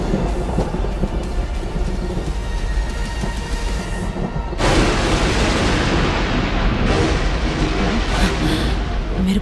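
Heavy thunder rumbles continuously through a thunderstorm right after lightning, loud and dense with rain noise, growing louder partway through.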